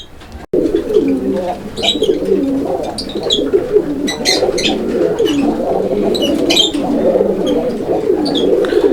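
A pigeon in a cage coos repeatedly, close and moderately loud, in a steady run of low throaty calls, with faint chirps and background noise around it.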